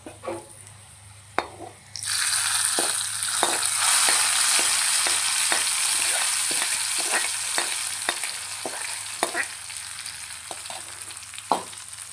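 Hot tempering poured into spinach dal bursts into a loud sizzle that hisses steadily for several seconds, with spoon taps and stirring clinks heard throughout.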